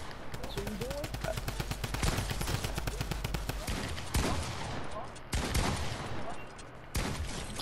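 Rapid drum gun fire in Fortnite, dense continuous bursts of automatic shots crackling for several seconds with brief pauses, loud and close, with faint voices mixed underneath.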